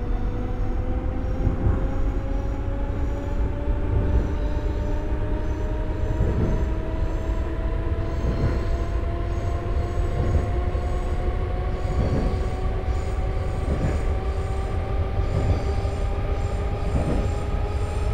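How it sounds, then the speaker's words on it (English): A KCR MLR E7 electric train pulls away in the OpenBVE rail simulator, its steady motor whine rising in pitch over a continuous rumble of wheels on track with periodic rail-joint thumps, loud and close throughout. "This train is about to leave."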